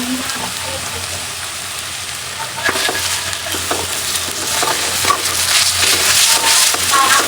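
Chopped onion with garlic paste and ginger paste frying in a pan, a steady sizzle that grows louder as a spoon stirs and scrapes with irregular clicks, fairly close, with a voice talking over it.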